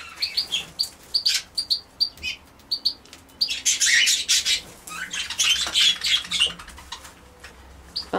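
A quail sitting in a brown hare's enclosure gives repeated high chirps and twittering calls, close and fairly clear, with a denser burst of chattering midway and no talking.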